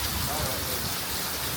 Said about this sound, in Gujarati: અંદર ધાર થતી હતી વરસાદની